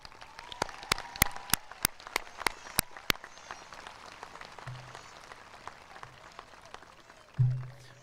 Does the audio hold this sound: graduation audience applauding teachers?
yes